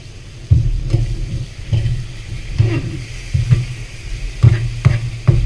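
Chicken pieces fry in a hot home-kitchen pan for spicy chicken teriyaki, a steady close sizzle broken by scraping stirs and clatters at irregular intervals, with no one speaking.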